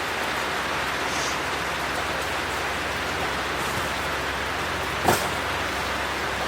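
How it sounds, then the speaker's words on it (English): Heavy rain pouring down outdoors, a dense steady hiss of drops on surfaces with one brief louder splash or knock toward the end, no voices. "It is pouring rain though."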